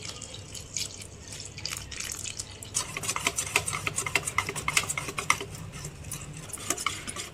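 Gram flour is mixed with water into a smooth batter for coriander fritters, with continuous wet stirring and clicking of a spoon against the bowl, growing busier and louder after the first few seconds, with no voices.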